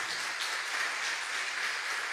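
A church congregation applauds right after a prayer, a steady, even patter of many clapping hands heard somewhat distant in the hall.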